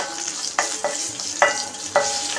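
Mustard seeds spluttering in hot oil, sharp crackling pops over a steady sizzle, with a few louder bursts close by.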